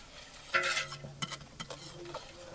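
Onions frying in a pan for a village-style baingan bharta, a quiet sizzle broken by a few close scraping stirs of a spoon against the pan, with no talking.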